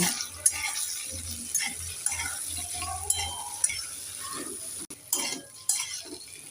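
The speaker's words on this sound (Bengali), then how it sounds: "এখানে আমি নেড়ে চেড়ে সবজিগুলোকে দু মিনিট ভালো করে ভেজে নেব" Chopped cauliflower and tomato stir-fried in a pan, a utensil scraping and clinking against the metal in repeated strokes over a soft, steady frying hiss, fairly close, with no talking.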